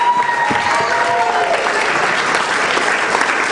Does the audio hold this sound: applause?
yes